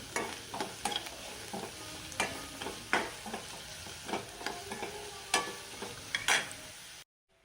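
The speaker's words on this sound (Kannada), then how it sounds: "ಈರುಳ್ಳಿ ಕೆಂಪು ಆಗೋ ತನಕ ಚೆನ್ನಾಗಿ ಫ್ರೈ ಮಾಡ್ಕೊಬೇಕು" Finely chopped onion fries in a tempering for moringa palya, a steady sizzle punctuated by repeated sharp spatula scrapes and stirs at close range, with no voices, ending abruptly in silence.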